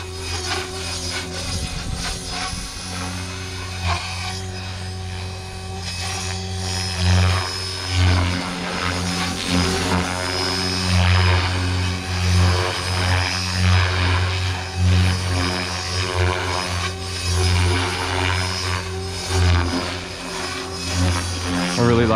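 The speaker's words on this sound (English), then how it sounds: "Slow spool up, heli mode." An RC helicopter with a Spektrum AR7210BX flybarless system slowly spools up in heli mode. Rotor and motor build into a loud, steady pulsing drone with rising harmonics, very close, lasting throughout with no talk over it.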